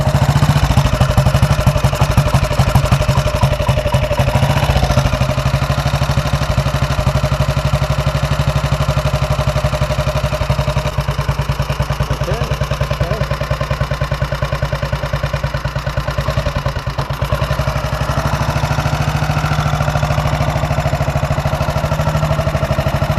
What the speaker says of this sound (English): and the bike starts well.